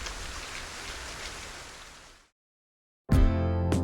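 Steady rain falls in a continuous broadband hiss for about two seconds, then cuts to silence before a loud burst of rain resumes abruptly near the end; no voices are present.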